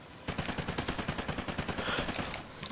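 A silenced weapon in a video game fires a fast, even string of muffled, suppressed shots, about two dozen in quick rhythm, fairly close and unaccompanied by talk.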